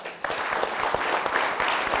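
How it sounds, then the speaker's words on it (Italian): An audience at a Christmas music show breaks into loud, sustained applause that swells quickly after a brief quiet start and continues densely to the end. "Fatevi un applauso"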